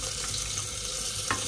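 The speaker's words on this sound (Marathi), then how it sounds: "तर हे मी याच्यामध्ये असं पाणी घातलं आहे" Water poured into a prawn masala cooking on the stove, a steady close pouring and splashing wash that runs throughout, with a brief brighter splash near the end.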